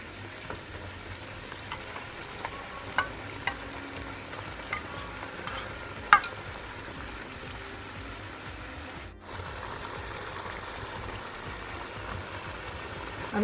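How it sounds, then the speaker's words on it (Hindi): Plain yogurt going into a masala of coriander powder and spices frying in a pan for coriander biryani, a steady soft sizzle with occasional light clinks and stirring scrapes close by, with no talking. "और अब हम इसमें 1/2 प्याली दही की डालेंगे।"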